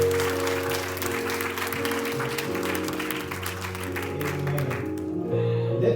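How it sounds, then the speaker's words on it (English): A church congregation gives hand claps of praise, dense applause-like clapping that stays loud and steady over sustained organ chords, then thins out near the end. "We give hand claps of praise"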